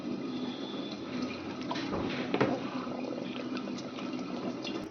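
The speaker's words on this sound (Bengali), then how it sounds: "কড়াইটা গরম হয়ে গেছে, তেলটা দিয়ে দেবো।" Oil poured into a hot wok (kadai) while making spicy braised mutton, giving a faint, steady hissing sizzle with a soft bubbling texture throughout.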